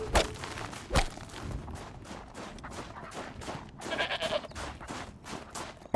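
A goat in the Horizon Zero Dawn game world gives a few bleats amid sharp shots and rustling steps, in short bursts at the start and again near the end.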